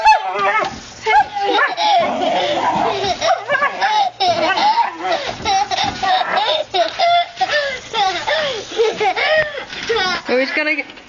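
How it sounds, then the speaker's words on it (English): A grumpy dog yips, whimpers and barks in short bursts near a swing, close and fairly loud, while people talk and laugh over it throughout. "grumpy dog over here."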